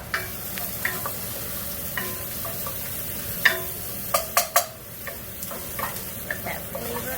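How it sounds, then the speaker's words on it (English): Lobster stir-frying with ginger and garlic for a Chinese New Year dinner, a soft steady sizzle punctuated by scattered clinks and scrapes of the spatula against the wok, fairly quiet. "stir fry the lobster. Ginger, garlic."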